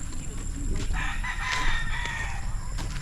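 A rooster crows loudly nearby on a farm in Leyte, with chickens clucking around it and a steady background hum.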